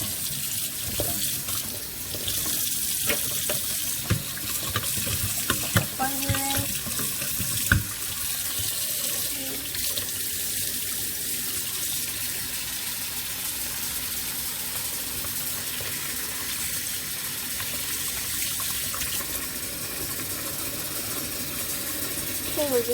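Tap water runs steadily into a sink while dyed yarn is washed with clear dish soap, a continuous rushing stream with occasional splashes and clunks from handling, close and fairly loud throughout.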